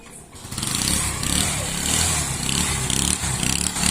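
A motorcycle engine cranking and sputtering as it struggles to start in cold winter weather, low on petrol, a loud, close, rough, continuous churning drone.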